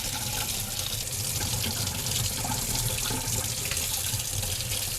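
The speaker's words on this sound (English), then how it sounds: "I'm gonna wash it over some warm to room temperature water over the sink" Tap water runs steadily into a sink, lukewarm to room temperature, for washing the roots of a Monstera Obliqua 'Peru' plant; a continuous close splashing hiss with no pauses and no voices.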